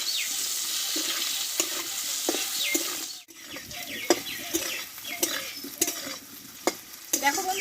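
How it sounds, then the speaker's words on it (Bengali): A large half-boiled potato sautéed in a pan, gentle sizzling broken by repeated scraping and clicking stirs of a spatula, close and moderately quiet, with a short lull partway through. "আর এখানে বড় সাইজের একটা আলু আমি হাফ বয়েল করে নিয়েছি একটু কষে নেব আলুটাকে"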